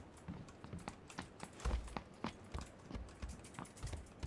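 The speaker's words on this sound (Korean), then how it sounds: "여기 발소리" Footsteps in the PUBG battle royale game, an uneven run of soft thuds and scuffs close by as a player moves through a house toward a staircase.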